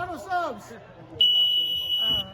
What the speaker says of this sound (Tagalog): That buzzer.